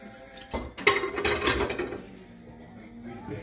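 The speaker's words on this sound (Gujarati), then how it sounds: "અડધો ગ્લાસ પાણી નાખવાનું." Half a glass of water poured into a pot on a gas stove while making tea, a short splashing pour with faint metallic clinks, close and fairly quiet, settling into soft room noise.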